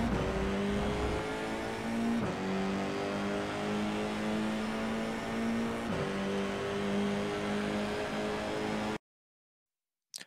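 An FIA F4 race car lapping Spa-Francorchamps screams through the gears, its engine pitch climbing and dropping at each shift, loud and close throughout before cutting to silence near the end.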